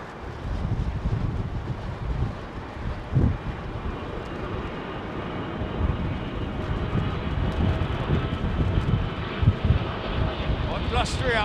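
A Sky Cargo freighter jet at London Heathrow Airport on a blustery day, a broad rumbling roar that builds steadily and stays loud, mixed with gusting wind noise on the microphone.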